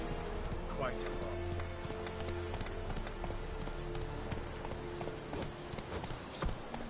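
Roach, a horse in the video game The Witcher 3: Wild Hunt, gallops with rhythmic clip-clopping hoofbeats under steady game background sound, with voices speaking over it.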